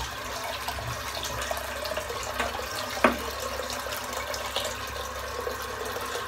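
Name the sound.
sink filling up with cold tap water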